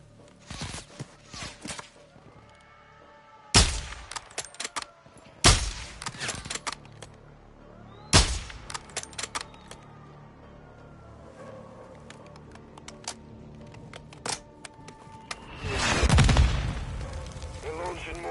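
Gunfire in the video game Call of Duty Modern Warfare 2: sharp, loud shots crack out singly and in short bursts at irregular intervals, with footsteps and game ambience between them and a heavier rumbling blast near the end.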